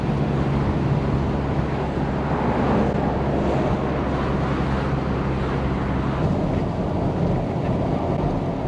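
Steady wind rush and road roar fill a PT Cruiser cabin at about 70 mph on the interstate with the window up and a wind deflector fitted, a constant broadband hiss with low rumble and no talking.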